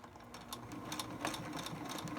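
A sewing machine back-stitches a cloth tri-fold face mask, a steady run of rapid mechanical stitching bursts that stays fairly quiet and close throughout.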